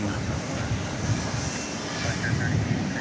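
A Boeing 777 arriving on Flight 81 from London Heathrow at DFW Airport at night, its steady engine roar and rushing wind noise running continuously at a moderate distance.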